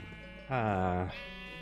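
A Minecraft sheep gives one short, wavering bleat, clear and close, over a quiet game background.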